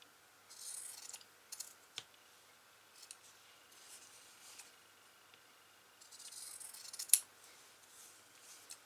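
Scissors snipping fabric for English paper piecing, a few short bursts of close, crisp blade cuts separated by quiet pauses, with a sharper click near the end and no talking.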